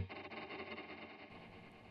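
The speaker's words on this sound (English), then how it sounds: "I have one plate reverb. This is what that sounds like." An electric guitar runs through a plate reverb pedal on a worship pedalboard, a washed-out, shimmering sustained sound that rings on and slowly decays, played alone.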